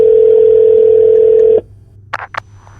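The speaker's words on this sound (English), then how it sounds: "Probably because the phone is ringing." A telephone in the video game Shadows of Doubt sounds a loud, steady electronic ringing tone for about a second and a half, then cuts off, followed by a couple of short faint blips.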